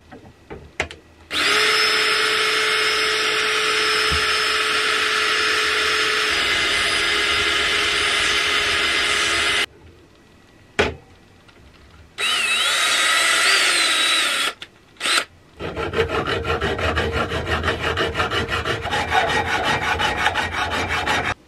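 A power drill whines loudly aboard a sailboat in long sustained bursts, broken by short pauses, ending with a rougher grinding run as it bites into material.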